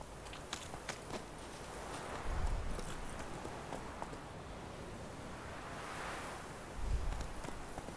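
Horse hooves clip-clop along at a walking pace in The Witcher 3, a soft, fairly steady rhythm of steps beneath a constant windy, surf-like wash, with two heavier low thuds standing out.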